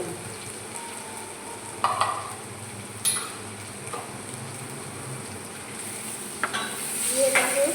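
Spice mix stirred through food frying in a pan, a steady close sizzle with soft scraping strokes and a few sharp clicks of the spoon against the pan.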